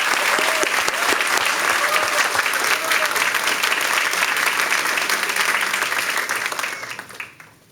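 Sustained applause from a board meeting audience welcoming newly appointed school district staff, loud, dense and steady throughout before fading out at the end.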